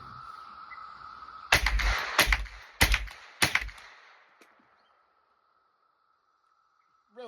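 Four sharp, loud gunshots from a Rock Island TM22 .22 rifle fire at a steady rhythm over a constant background hum, then the hum continues alone after the shots.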